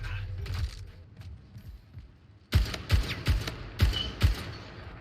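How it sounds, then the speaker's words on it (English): Gunfire in a multiplayer video game: after a few muffled pops, a rapid series of loud, close shots bursts out in quick rhythmic clusters, with a player's voice speaking faintly underneath. "I'm being shot at."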